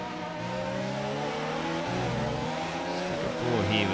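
Two Toro Rosso Formula 1 cars racing in an F1 video game at the Brazil circuit, engines droning and shifting pitch steadily, with commentary voices running over the engine noise.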